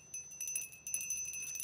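A beaded boho wind chime with a cone-shaped metal bell featuring cut work rings faintly and steadily, sustained high tones shimmering with light clinks throughout.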